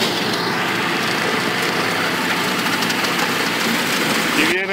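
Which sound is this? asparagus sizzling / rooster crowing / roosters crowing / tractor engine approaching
tractor engine approaching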